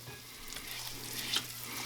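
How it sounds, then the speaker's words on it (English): Butter melts with a sage leaf in a pan, producing a soft, steady low sizzle and faint bubbling, quiet and close, with a slight clink partway through and no voices. "while this is melting here, I'm going to take a leaf of a sage and throw in there with it"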